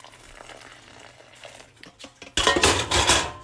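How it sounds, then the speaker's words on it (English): Boiling hot water is poured into a bowl of yellow cornmeal mixed with baking powder, sugar and salt. Light clinks and scrapes come first, then a loud, close splashing rush of pouring that runs to the end. "Now I'm going to pour in my boiling hot water."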